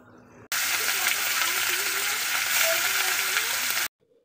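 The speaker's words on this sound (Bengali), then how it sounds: "তেল গরম করে নিয়েছি, নিয়ে এখন মাছটা ভেজে নিচ্ছি লাল লাল করে" Fish frying in hot oil in an old blackened kadai until reddish, a loud, dense sizzle that starts abruptly and holds steady for several seconds before cutting off.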